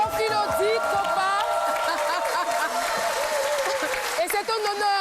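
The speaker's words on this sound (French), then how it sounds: "On applaudit très fort." A studio audience on an Ivorian midday TV show applauds continuously and fairly loudly, with a voice talking over the clapping throughout.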